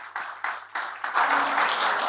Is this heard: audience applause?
yes